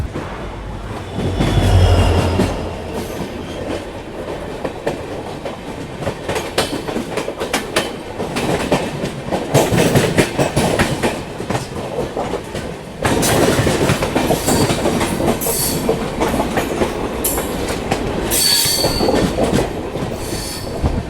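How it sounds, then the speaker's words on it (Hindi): The Kathgodam Ranikhet Express passing on the line, a loud roaring rumble of wagons with rhythmic wheel clatter and high metallic squeals, surging and steady for about twenty seconds without speech. "ये थी काठगोदाम रानीखेत एक्सप्रेस, काठगोदाम जैसलमेर रानीखेत।"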